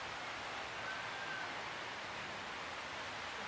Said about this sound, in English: it just started to rain.